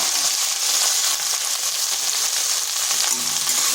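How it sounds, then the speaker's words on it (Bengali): Okra frying in a pan with turmeric and salt gives off a steady, close sizzle that holds broad and even throughout, with faint stirring scrapes and no voices. "ঢেঁড়সটাকে একটু ভেজে নেব"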